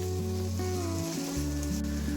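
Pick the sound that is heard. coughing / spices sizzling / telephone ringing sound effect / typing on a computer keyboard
spices sizzling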